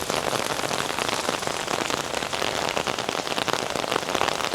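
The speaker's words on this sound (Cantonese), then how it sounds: "噼哩啪啦啦落大雨啊" Heavy rain pours steadily on a street in Guangzhou, a dense, loud patter hitting surfaces without pause.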